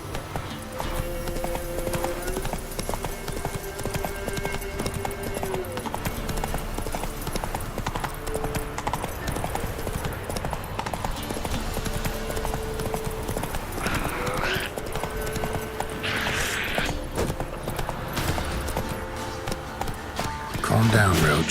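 Hooves of a horse in The Witcher 3 video game clip-clop in a fast, steady gait throughout, loud and close, with game voices speaking over the hoofbeats at times.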